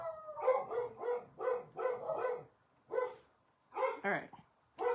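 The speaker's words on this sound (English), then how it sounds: "And the dogs go crazy." Dogs bark in quick repeated bursts, several loud close barks in a row with short pauses, one sliding into a whiny yelp.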